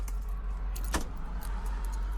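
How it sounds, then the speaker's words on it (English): Car keys picked up from a vehicle's console, a brief metallic jangle with a sharp clink near the middle over a low steady hum, close and fairly quiet. "He said he was leaving the keys in the console."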